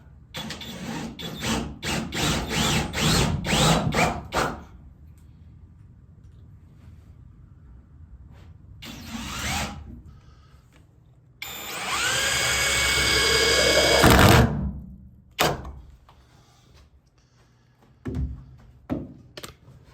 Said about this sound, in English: I screwed it to the metal and then screwed it to the floor.